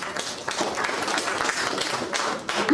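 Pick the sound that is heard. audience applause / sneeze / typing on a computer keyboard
audience applause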